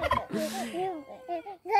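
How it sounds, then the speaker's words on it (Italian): A big turkey at a farm gobbles loudly and close, a rapid warbling burst followed by shorter gobbling calls. "it's a big turkey."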